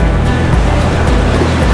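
Rushing river water and small waves slapping around a kayak on the River Wye at Symonds Yat, a loud, steady broadband wash heard up close.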